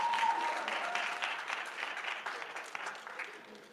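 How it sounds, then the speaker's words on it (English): Audience applause at a university student government Senate candidate Q&A, honoring a former senator: a dense, steady wash of many hands clapping from a room full of people, fading slightly toward the end, with no voices over it. "So he deserves another round of applause"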